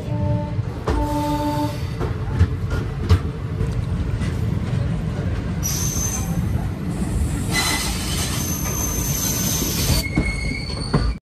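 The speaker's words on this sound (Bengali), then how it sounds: "বন্ধুরা একদম সঠিক সময়ে ট্রেন ছেড়ে দিয়েছে কাঠগোদাম রেলওয়ে স্টেশন থেকে" Steady rumble and wheel clatter of the 13020 Bagh Express just after leaving Kathgodam station, heard from inside the coach, with metallic wheel squeal rising in bursts and no talking.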